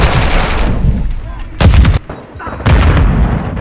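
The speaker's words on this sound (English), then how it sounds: "Grenade!" Combat in the Modern Warfare 2 beta, loud close bursts of gunfire and booming blasts in several separate clusters with brief quieter gaps between them.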